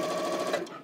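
A sewing machine stitching quilt blocks runs in a brief, steady mechanical whir at moderate loudness that eases off at the end.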